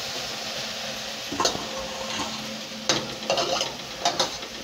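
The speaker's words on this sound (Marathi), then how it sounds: "असं खालीवरी 2-2 मिनटाला असं हलवीत राहायचं आहे।" Okra (bhindi) sizzles softly in a pan while a spoon stirs it, with a few sharper scraping clinks on top of a steady low fry and no voices.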